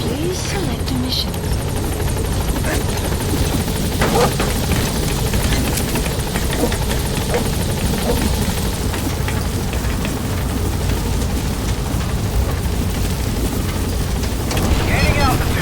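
Helicopter in a video game: loud, continuous rotor thump and turbine roar close up, holding steady throughout as the aircraft gains altitude, with faint voices underneath.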